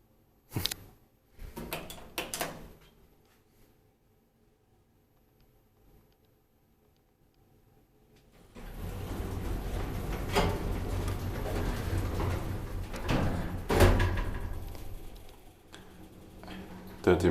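A 1998 Kone roped hydraulic elevator in an apartment building: a few faint ticks and clicks sound, then a long stretch of quiet, then a louder rumbling, rattling sliding of the door with sharp knocks, close by.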